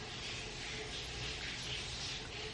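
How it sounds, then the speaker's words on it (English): A shower runs in another room, giving a steady, even hiss of falling water that holds at a constant level throughout with no voices. "Sorry about the noise, my husband is taking a shower now."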